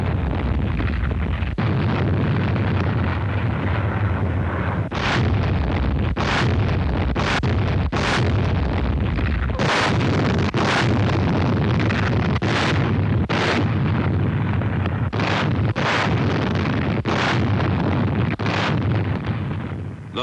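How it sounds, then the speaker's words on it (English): Naval shelling of a Pacific island on D-Day morning before a landing, heard as repeated heavy booming blasts at irregular intervals over a constant roar of wind and rumble, loud and continuous. "The Navy shelled the target island of Beisho on D-Day morning for only 3 hours before the landing."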